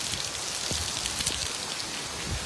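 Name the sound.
rain falling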